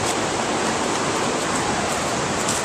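A waterfall near Highlands, North Carolina roars as a dense, continuous rush of falling water, loud and close with no pauses or voices.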